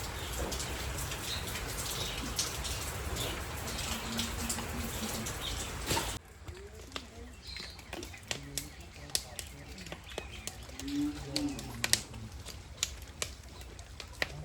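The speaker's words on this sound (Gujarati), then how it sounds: "એક બાજુ ચાલુ વરસાદ" Steady rain pours down outdoors, a dense hiss for several seconds before easing into scattered drips and patters on surfaces, with faint bird calls.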